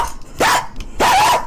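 Two loud, close dog barks from a sound effect, each a drawn-out gruff bark with a slight growl, separated by a short pause.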